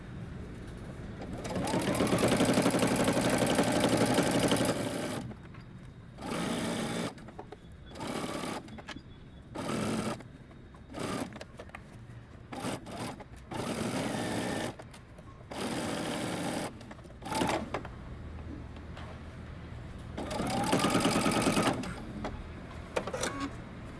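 A sewing machine sews a seam on a bodycon dress in repeated bursts, a loud close motor whir stopping and restarting many times with short pauses between runs.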